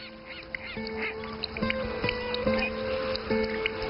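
Relict gulls at Rondian Lake, a large freshwater lake in a Chinese desert, give repeated nasal honking calls over a steady murmur of flock and water noise.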